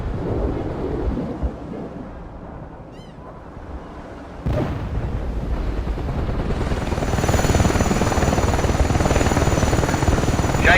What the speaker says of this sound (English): That helicopter didn't stand a chance.